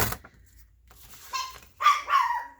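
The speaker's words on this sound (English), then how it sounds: "You're barking at me, silly." A few short dog barks and yips, close by and fairly quiet, separated by brief pauses.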